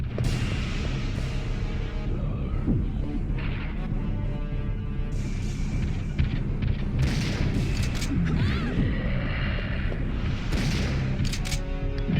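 Missile explosions in the 1999 PlayStation game Resident Evil 3 on Hard difficulty, dense booming blasts and rumbling bursts throughout, layered over constant loud game noise with several sharper hits along the way.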